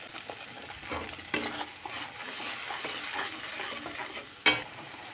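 Spice paste sizzles and fries in a pan after a splash of spice-washed water goes in, a steady crackling hiss stirred with a spoon, with a sharp clink of metal near the end.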